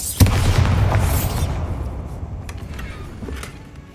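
A spell blast from the Bombarda charm in Hogwarts Legacy booms once near the start, a loud deep burst that rumbles and fades over the following seconds, with faint game effects trailing behind.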